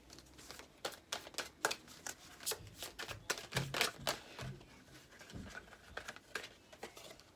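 Tarot cards are pulled from a deck and shuffled close up, making a steady run of soft papery slaps and riffles in quick irregular bursts, with no talking.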